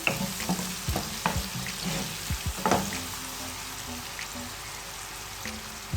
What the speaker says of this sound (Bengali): এর মধ্যে দিয়ে দিচ্ছি পেঁয়াজটা যেন তাড়াতাড়ি সেদ্ধ হয় লবণ স্বাদ অনুযায়ী একটু নেড়ে দিচ্ছি